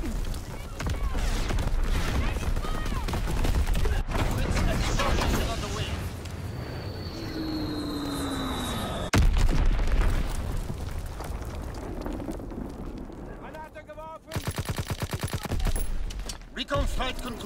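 Artillery barrage pounding the battlefield in Call of Duty WWII: a dense, continuous roar of booming blasts and crackling gunfire, with a louder burst near the end and voices underneath.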